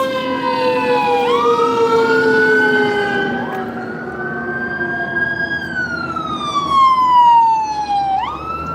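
An ambulance siren in Yuma, Arizona wails close and loud, its tone sweeping up and down in long glides and then dropping in pitch as the vehicle passes, with traffic rumble underneath and no talk.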